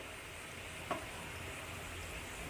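Fish pieces for chepala pulusu, a fish curry, are tossed in a pan, producing a steady, fairly quiet sizzle with one brief louder shuffle of the pan partway through.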